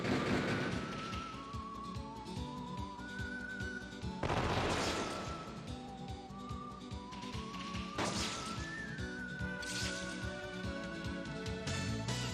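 Characters shoot during a Wild Arms 3 battle, firing in rapid rhythmic pops over a steady game music bed, with three heavy crashing impacts spaced across the scene and no voices.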